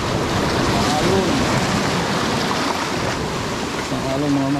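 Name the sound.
ocean wave hitting the boat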